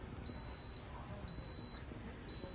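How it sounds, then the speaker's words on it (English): An Instant Pot Carb Reduce rice cooker timer sounds three steady, high electronic beeps, each about half a second long, evenly spaced over a quiet kitchen background hum. "Okay, so the timer is about to go off."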